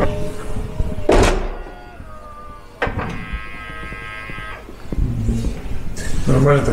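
The heavy door of an EXEED VX SUV shuts by itself with a solid thunk, then a second sharp closing sound follows. Both come amid quiet background noise and some talking.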